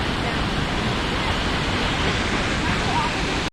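Kaaterskill Falls pours steadily, a dense, even roar of falling water heard up close with no breaks, cutting off abruptly at the end.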